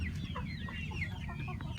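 Free-range chickens cluck and chatter continuously in a close, busy farmyard, with overlapping soft calls and no voices.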